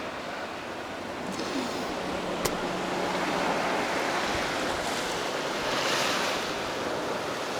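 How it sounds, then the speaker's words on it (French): Steady ocean surf washing in close by, about ten metres away in Greece, a continuous broad roar with waves swelling and breaking, no voices. "le bruit des vagues"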